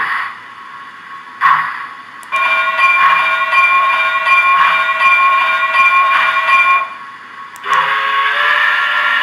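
Electronic model locomotive sounds play in steady bursts: a chuffing, humming engine loop with bell-like tones and short whistle blasts, fairly close and loud.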